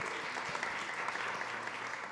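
Audience applause at a food summit in Austin, a steady, fairly soft wash of many hands clapping together, sustained evenly throughout with no talk over it.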